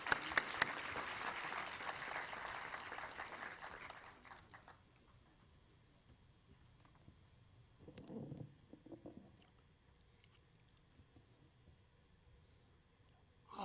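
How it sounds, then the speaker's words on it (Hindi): An audience at a seminar on spirituality inaugurated by the President of India applauds. Faint, dense clapping lasts about four seconds, then fades to a quiet room with a few soft thumps. "Let's have a huge round of applause."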